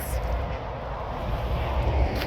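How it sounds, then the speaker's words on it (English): Steady road traffic rumble beside an allotment garden, a broad low roar with a wash of hiss, continuous and moderately loud throughout. "sorry about the road noise, I'm right by the road here."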